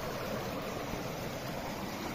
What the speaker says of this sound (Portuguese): E todo o riacho correndo água aí.